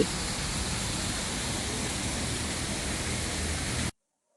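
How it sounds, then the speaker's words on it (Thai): A small waterfall in a cafe garden gives a constant, even rush of splashing water for about four seconds, then stops abruptly. "ก็มีน้ำตกสวยๆอย่างนี้เลย"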